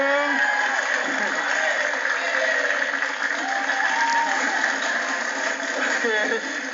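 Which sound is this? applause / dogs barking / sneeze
applause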